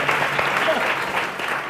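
Studio audience on a Pakistani TV morning show claps steadily, a dense, even burst of many hands filling the room, with a voice faintly underneath.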